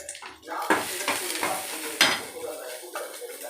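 Green chillies and beans are stirred in a pan with a metal utensil, giving repeated scraping clinks over a soft background sizzle, close and moderately loud.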